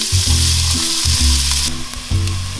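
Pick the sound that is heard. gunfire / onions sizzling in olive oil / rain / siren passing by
onions sizzling in olive oil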